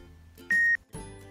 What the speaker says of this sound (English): It emits a beep